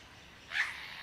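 A lyrebird mimics a black cockatoo with a single short, faint wailing call over quiet outdoor background.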